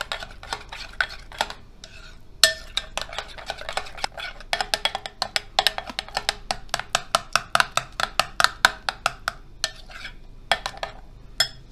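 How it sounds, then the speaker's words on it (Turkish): Spoon briskly mixing lettuce tarator with lemon juice, rapid rhythmic clinks and scrapes against a bowl, close and steady, with no talking. "Güzelce karıştıralım."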